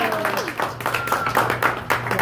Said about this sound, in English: a nice round of applause for Guy.